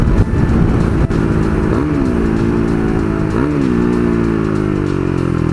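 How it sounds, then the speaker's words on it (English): A KTM 390 Duke single-cylinder engine breathes through an Akrapovic slip-on exhaust with the baffle removed, giving a loud, raspy close-up drone with two brief revs rising and falling over a steady idle. "I was told that he had taken the baffle out of it, so it does sound nice."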